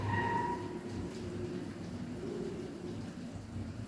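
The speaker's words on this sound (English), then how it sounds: "do you hear the wind? It's blowing the rain." Rain falling steadily while wind gusts push it around, a low rumbling wash of sound at moderate volume with no talking.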